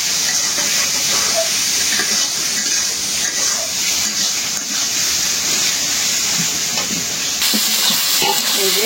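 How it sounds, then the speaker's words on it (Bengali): Taro greens cooked with hilsa fish sizzle in hot oil, a steady close broadband hiss and crackle that runs unbroken throughout. "একদম ভাজা ভাজা করে রান্না করলাম এই তেল ছেড়ে"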